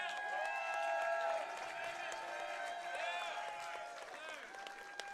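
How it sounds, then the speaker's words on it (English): An audience at a Nashville fight night applauds and cheers for the promoter, a steady wash of crowd clapping under a loud announcer's voice. "Y'all put your hands together for Nashville's own promoter extraordinaire"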